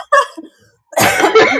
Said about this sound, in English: why did you just suddenly cough?